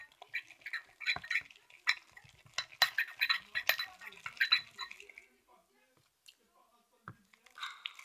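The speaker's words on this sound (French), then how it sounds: "Je vais mélanger." Slime is stirred in a container, making bursts of sticky, squelching clicks and wet smacks in an irregular rhythm that fade to near silence with a few last squishes.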